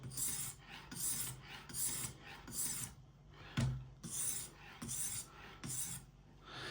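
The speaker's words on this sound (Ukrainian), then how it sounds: "після техбар'єру я продовжую гострити, так ніби я його не робив" A kitchen knife is drawn repeatedly across a sharpener in rhythmic rasping strokes, about a dozen close scrapes with a brief pause and a single knock midway.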